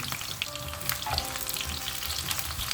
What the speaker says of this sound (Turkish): Kestiğimiz patlıcanlarımızı bir çay bardağı kızgın yağ atalım.